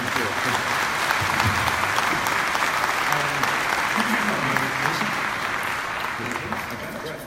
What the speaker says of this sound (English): a round of applause for the Prime Minister